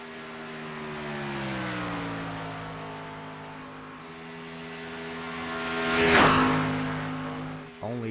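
A race car laps Daytona in a racing video game, its engine a steady harmonic drone that slowly shifts pitch, with a brief louder whoosh of a car passing near the end.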